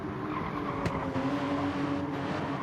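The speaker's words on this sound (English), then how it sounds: "that's another spin by Shaggy" A race car spinning out in a racing game, engine droning with tyres squealing and skidding, plus a sharp transient midway, continuous and fairly close.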